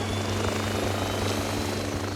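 A rescue helicopter lifting off for a medical flight, heard from inside as a loud, constant rotor and turbine roar with a low rhythmic beating throughout.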